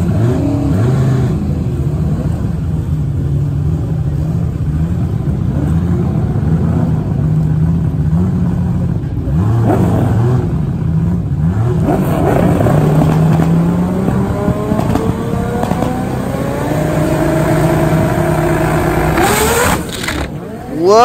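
Pro stock drag racing machines roar loudly down the strip, their engine notes rising and falling in repeated revving sweeps before a final high-pitched surge and a sudden drop.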